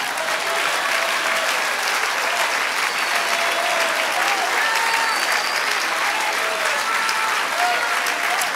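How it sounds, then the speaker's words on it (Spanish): Sustained applause fills a church congregation, dense and steady throughout, with scattered voices faintly audible beneath the clapping. "Dale aplauso al Señor."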